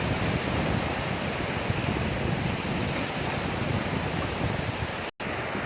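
Surf and wind roll along the Nakhon Si Thammarat seashore near wind turbines, a loud, unbroken roar of waves mixed with microphone-buffeting gusts, with a brief dropout near the end.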